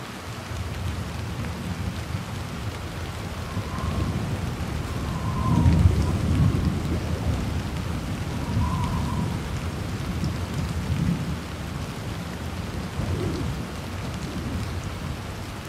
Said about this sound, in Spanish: lluvia con tormenta y viento